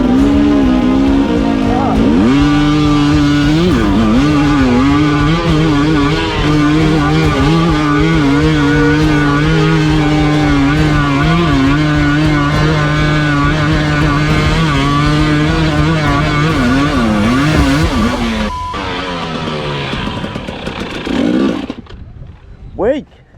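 Two-stroke dirt bike motorcycles climb a steep hill, engines buzzing and revving loudly and continuously for most of the stretch, pitch rising and falling with throttle, then cutting off near the end as voices and crowd noise take over.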